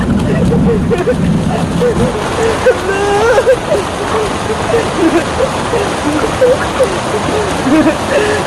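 Heavy rain falling and splashing in a steady wash, with a voice or playful sounds rising over it now and then as someone bathes in the downpour.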